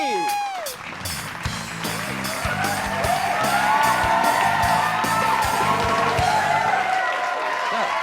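A studio audience at a televised Independence Day special breaks into loud, sustained applause mixed with whoops and cheers, steady throughout alongside a musical backing.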